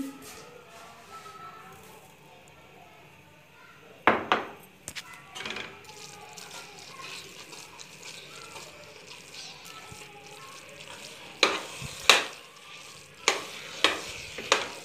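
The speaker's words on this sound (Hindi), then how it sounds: "अब इसको साथ साथ इसमें चम्मच हिलाते रहें ताकि अच्छी तरह ये भुना जाए" A spoon stirs carrot halwa roasting with sugar in a pan, a soft low sizzle broken by sharp scraping and clanking strokes in irregular clusters, close by, without talk.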